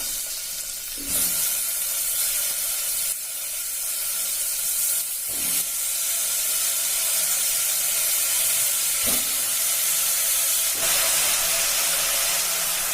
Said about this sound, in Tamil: இப்போ கத்திரிக்காய் போட்டுக்கலாம்.